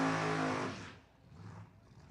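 Drag race car at a racing event doing a burnout, a loud, harsh engine and tire roar in the first second that cuts off abruptly, leaving faint distant track noise.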